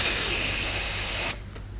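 A man vocally imitating the pneumatic hiss of a bus front door opening: a steady, breathy air hiss lasting about a second before cutting off abruptly into near silence.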